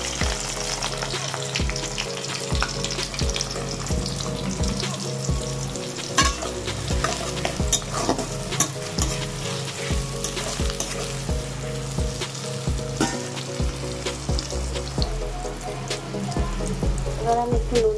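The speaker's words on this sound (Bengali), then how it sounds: "তো এই কারি পাতাটা আমি দিয়ে দিচ্ছি। এরপর দিয়ে দেবো পেঁয়াজ।" Curry leaves and onion frying in a pan for a curry-leaf chicken dish, a steady loud sizzle and crackle with frequent clinks and scrapes of a spoon stirring throughout, no voices.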